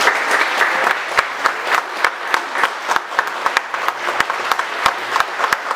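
Audience applause fills the hall at a 20th anniversary forum, a dense continuous clapping with sharp individual claps standing out, loud and close with no talk over it.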